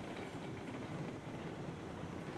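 A train of flatcars rolls along the rails in the Railroads Online game, a dense continuous rumble with faint rhythmic clatter, steady and close, with no voices.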